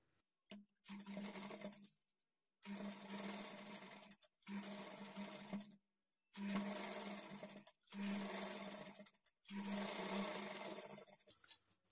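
A sewing machine stitches a blouse lining in six separate runs of rapid, whirring needle strokes, each lasting a second or two, with short silences between them. No one speaks.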